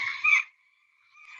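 A screech owl gives a rough, toad-like trill resembling an American toad's call, a short harsh burst followed by a thin sustained tone and then a rising second phrase, clear and alone.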